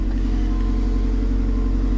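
A hail-damaged salvage car's engine idles steadily up close, a loud, even low rumble with no voices.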